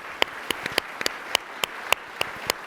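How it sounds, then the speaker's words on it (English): Scattered individual claps ring out at a general session as an audience gives a hand for military members and veterans, sparse and uneven rather than full applause. "So y'all give a big hand clap to all our military and veterans."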